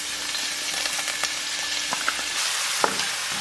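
Celery sizzling in olive oil in a pan on the stove, a steady close frying hiss with occasional pops and stirring scrapes.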